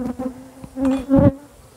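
Honey bees shaken in a jar with powdered sugar for a varroa mite count buzz loudly and close, in uneven agitated bursts that rise and fall.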